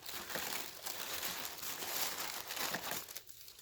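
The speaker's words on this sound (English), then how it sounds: "So you keep adding your tissue paper and layering up" Tissue paper crinkles and rustles continuously at close range while being layered into a jewelry gift package, a soft, dense crackle with no voices.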